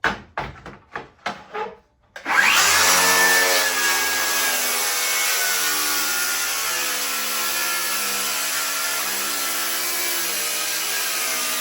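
A track saw guided by a Milescraft square cuts through wood. A few sharp taps come first, then the saw starts with a loud, steady whine that holds unbroken to the end.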